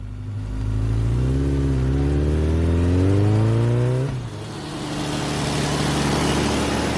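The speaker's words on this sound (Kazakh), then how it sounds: "motorcycle" A cartoon motorcycle engine revs up hard, its pitch climbing steadily for a few seconds before cutting off sharply, then settling into a rough, lower running roar, loud and close with no talking.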